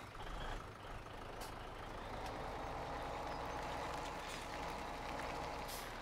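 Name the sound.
truck reversing in Farming Simulator 17 video game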